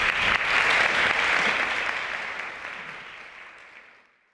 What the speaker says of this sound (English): Please join me in giving another round of applause to our job quality panelists.